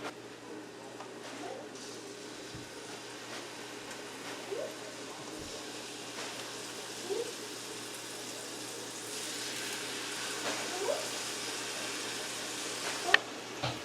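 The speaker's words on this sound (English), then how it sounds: "we're going to just let that fish cook in that butter" Catfish fillets cook in melted butter in a pan, giving a steady, soft sizzling hiss that swells slightly toward the end, with a few faint clicks and knocks in the background.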